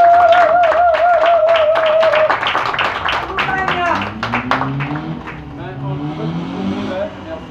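An audience claps in a rapid burst of applause at a gathering, loud at first and then thinning out, mixed with engine noise and voices.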